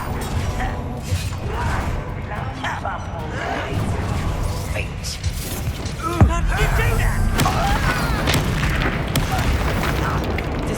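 Spell explosions and magical combat effects in the Hogwarts Legacy video game, a fiery blast spell among others, booming amid continuous battle noise and game music, with voices talking over the action throughout.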